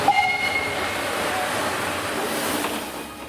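A Nilgiri mountain railway train hauled by a new domestically built diesel engine rumbles past loudly and steadily, with a brief horn-like tone at the start and continuous rolling rail noise throughout.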